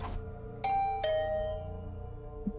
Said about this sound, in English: The bell rang again